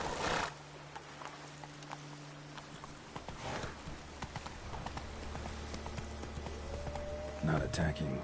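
Roach the horse in The Witcher 3 video game clip-clops along with steady hoofbeats and lets out a neigh, while someone talks over the game sounds.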